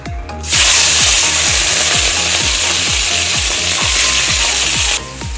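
An electric grinder whirs steadily at high pitch while blending tomato, green chili, ginger and cumin into a spice paste, starting up abruptly and cutting off after about four and a half seconds, with a rhythmic knocking underneath.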